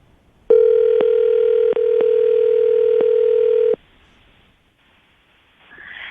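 A telephone ringback tone sounds as a call is placed. There are three steady, evenly spaced rings, then quiet line noise and a faint rustle.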